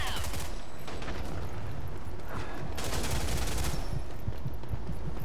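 Gunfire in the shooter game Rogue Company, a dense continuous barrage of shots with fainter bursts layered underneath.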